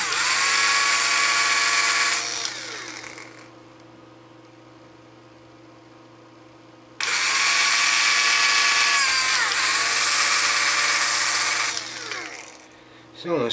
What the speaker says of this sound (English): Now I'm using a 9/64 inch drill bit, and that's what I need for the number 6 hardware.